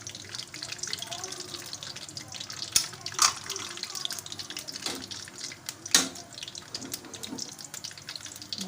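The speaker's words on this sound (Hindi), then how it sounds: "तो बस हम यहाँ शीरा डाल देंगे इसमें" Jaggery and sugar syrup poured into hot rice cooking with coconut in a pan gives a watery, trickling pour with soft sizzling and a few clinks, fairly close.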